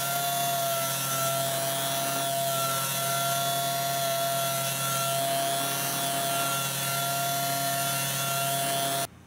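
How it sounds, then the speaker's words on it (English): A 5-inch 3M dual action sander fitted with 320 grit paper works steadily over the inside of a Corian solid surface sink, a continuous close whirring hum with a faint tonal whine that holds level for about nine seconds before cutting off. "Well, this is a 3M, but it's a dual action sander."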